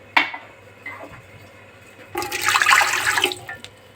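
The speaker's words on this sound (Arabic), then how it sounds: "كل اللي هعمله ان انا هنزل بكوبايتين ميه." Two cups of water poured into a cooking pot on a gas stove, heard as a single splashing, gushing burst of about a second, fairly close and louder than the quiet room, with a few small clinks before it.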